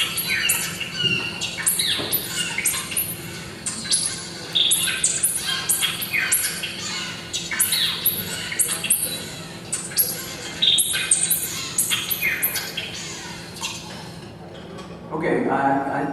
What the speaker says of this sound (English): a bird song that I recorded also in the Everglades,